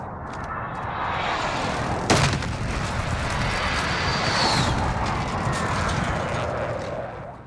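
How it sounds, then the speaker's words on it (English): A precision airstrike in Warzone: a roaring jet pass and rumbling explosive impacts blend into a loud, continuous wash, with one sharp blast near the start standing out from the din. "Be advised, friendly precision airstrike inbound."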